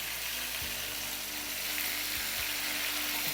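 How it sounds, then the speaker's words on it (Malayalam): Chicken pieces frying in hot oil for chicken chops give a steady, close sizzle throughout, with a few soft knocks as the pieces are stirred. "കോഴിയിട്ട് പൊരിക്കാം."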